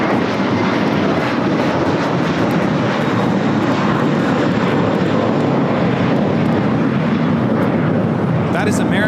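An American Airlines Airbus A321 takes off from LAX bound for Boston, a loud, steady broadband jet roar that fills the whole stretch with voices mixed in beneath it.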